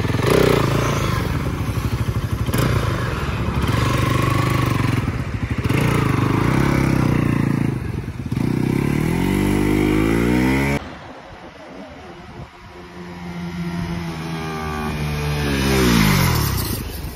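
A Bajaj Pulsar motorcycle turns around and accelerates for an ABS brake test, its mid-pitched engine revving loudly and close, then dropping to a lower idle before building up again.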